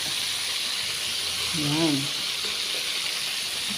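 Fish sizzling in a frying pan in a Filipino outdoor dirty kitchen, a steady broad hiss of hot oil running throughout, with a brief voice speaking over it near the middle.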